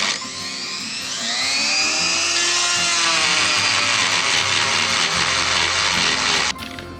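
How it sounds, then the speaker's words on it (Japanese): A high-pitched rotary tool whines steadily while widening a hole in an RC car chassis, its pitch shifting slightly as it cuts, then stopping abruptly near the end. "穴を広げます。"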